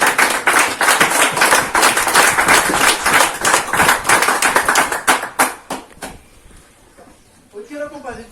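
Strong applause from a church congregation fills the room for about six seconds, dense and loud, then thins out into scattered claps as it fades to near quiet.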